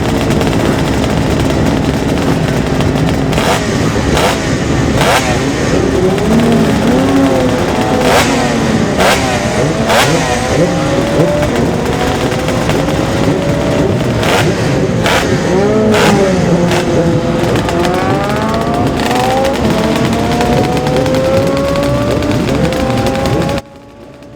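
Classic racing motorcycles lap the course during Classic TT practice in 2018, and several bikes roar past one after another, rising and falling as they approach and pass, over a constant loud engine drone.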